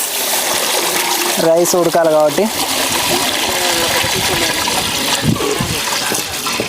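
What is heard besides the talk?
water being poured into a pot for boiling rice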